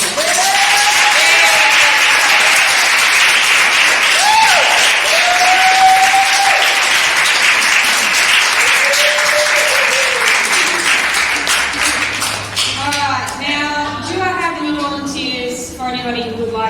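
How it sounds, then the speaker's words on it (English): A poetry open mic audience at a gallery gives a loud, sustained round of applause that fills the space, fading near the end as a voice and a few calls come through. "Okay, another round of applause."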